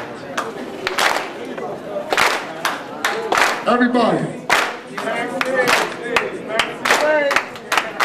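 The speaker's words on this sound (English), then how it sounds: "I want like a slow clap." Evenly spaced hand claps keep a slow, steady beat under a voice rapping and talking throughout.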